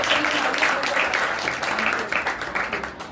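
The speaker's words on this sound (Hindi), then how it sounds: "आप सबके जोरदार तालियों के साथ में मैं इन्वाइट करूँगी।" Steady applause from an audience at a school awareness session, sustained and fairly loud throughout, with a little voice mixed in beneath it.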